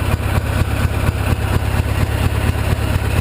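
A Gilson riding mower engine runs steadily, giving a loud, close, low chugging idle with an even pulsing rhythm throughout and no voices.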